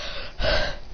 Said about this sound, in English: he's panting really